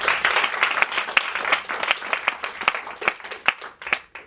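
An audience at an economics journal release event claps, a moderate spread of handclaps from a modest-sized room, fairly dense at first and thinning toward the end.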